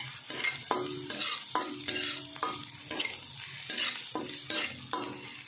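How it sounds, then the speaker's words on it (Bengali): Chopped ginger and garlic sizzle and fry steadily in a hot pan, with repeated scraping stir strokes from a spatula at a close, even pace and no voices. "এটা একটু ফ্রাই করে নেব।"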